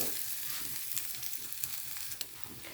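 Spices, curry leaves and onion sizzle as they temper in hot oil in a pan, a continuous bright crackling hiss with occasional sharper pops, close and steady, with no talk.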